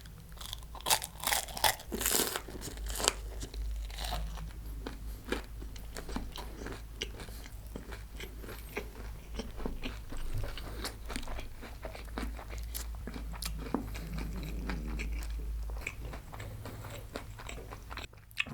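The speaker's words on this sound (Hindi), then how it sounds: "करते हैं आज का video start Kurkure spring roll के साथ" Someone bites into a crunchy spring roll and chews it, giving loud, close, repeated crisp crunches that carry on steadily with no talking.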